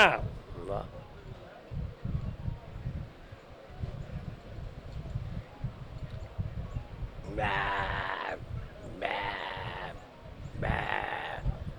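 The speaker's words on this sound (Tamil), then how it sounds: "ஆட்டுக்குட்டி சத்தம் கேக்கு." A lamb bleats three times in quick succession toward the end, short wavering calls over steady background talk from people nearby.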